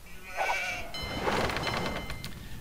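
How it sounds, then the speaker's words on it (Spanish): Sheep bleating in the Age of Empires II video game: two or three short, nasal bleats in a row, clear and close, with a brief in-game chime mixed in. "¿Ovejas encontradas? ¡Sí!"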